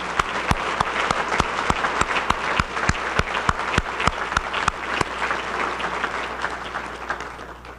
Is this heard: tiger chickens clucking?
no